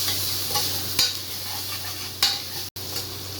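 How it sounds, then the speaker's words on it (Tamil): Mint and coriander leaves sautéing in a pan while cooking chicken biryani, a steady close sizzle and hiss with a few brief stirring scrapes, no voices. "இப்போ வந்து புதினா, மல்லித்தலை, நல்லா 2 நிமிஷம் வதக்கணும் நல்லா."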